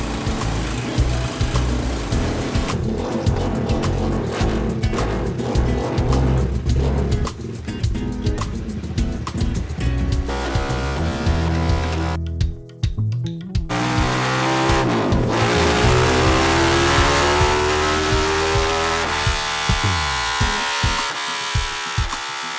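A race motorcycle being prepared for the N.G.O. Superfest 2024 revs hard on a dyno: a loud, continuous engine roar that climbs and drops through repeated throttle sweeps, with a brief cutoff midway before it winds back up.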